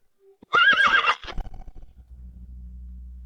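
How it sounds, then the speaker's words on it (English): A single loud horse neigh rising and wavering for about half a second, followed by snorting breaths and a low rumble fading into quiet. "Another horse has been run to exhaustion."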